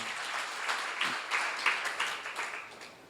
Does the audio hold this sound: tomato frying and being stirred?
no